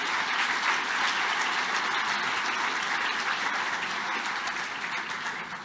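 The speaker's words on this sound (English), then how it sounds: "let's give our speakers one more round of applause" An audience at an economic outlook summit applauds panel speakers in a steady, full round of clapping that fades slightly at the end.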